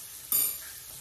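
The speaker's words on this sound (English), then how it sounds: "let that thing sizzle." Chicken wings fry in hot oil, with a soft continuous sizzle and a brief louder crackling burst in the middle.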